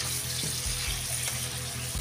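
Food sizzles and crackles steadily in hot oil, close by, a continuous hiss with faint low bumps underneath.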